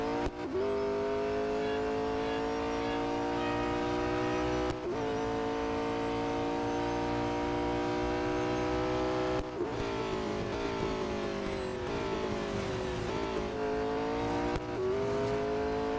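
A McLaren 650S GT3 race car engine in Real Racing 3 drones steadily and loudly for the whole run, its pitch climbing through repeated gear changes, with brief dips at each shift and no talking.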